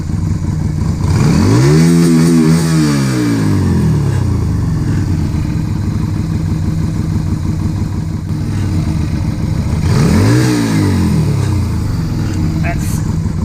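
A budget bobber motorcycle engine with a carburettor being tuned revs twice under the throttle, each blip rising and falling in pitch over a steady loud idle, with a voice talking faintly in the background.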